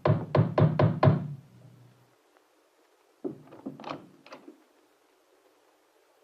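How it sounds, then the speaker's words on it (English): Someone knocks on a door at midnight: five quick, firm raps, then a pause before a second, softer group of knocks, with a quiet setting between them. "At midnight, there was a knock on his door."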